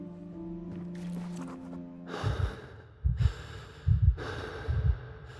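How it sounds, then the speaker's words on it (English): Heavy, ragged breaths in the Sherlock Holmes: Chapter One video game, four loud gasping bursts following a quieter musical opening, close and alone with no talk. "Heavy breathing."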